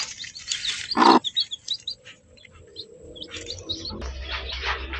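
Newly hatched chicks near a mother hen chirp in quick high peeps, close and fairly loud, with small gaps between bursts and a faint low hum beneath.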